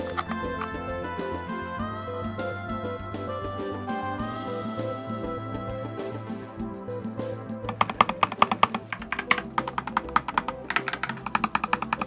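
Rapid typing on lubed mechanical keyboard switches, muffled at first under a steady musical drone, then a louder burst of crisp, quick key clacks near the end.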